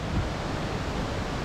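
Steady rushing water fills the clip, a broad, even roar of the Rivière des Fleurs Jaunes flowing, with no voices.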